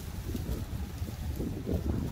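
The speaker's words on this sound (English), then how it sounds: "so windy." Wind gusts outdoors beside a pontoon boat being built, buffeting the microphone as a steady low rumble for a couple of seconds, with no other sounds.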